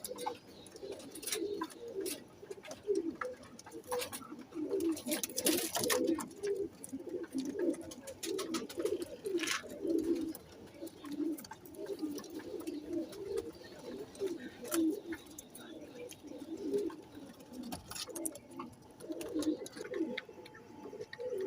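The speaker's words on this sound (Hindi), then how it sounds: "माशाल्लाह बहुत अच्छे कबूतर हैं" Pigeons, a Salara pair among them, coo steadily in a soft, low, rolling chorus, several birds overlapping close by with a few faint chirps in the background.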